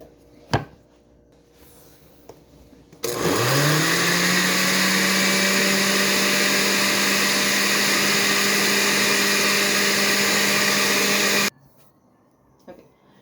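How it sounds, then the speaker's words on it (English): A kitchen blender beating hot cake batter until creamy, switching on with a rising whine into a loud steady motor drone for about eight seconds before cutting off abruptly; quiet handling clatter before and after. "if you have all ingredients, add into blender. After, beat until creamy."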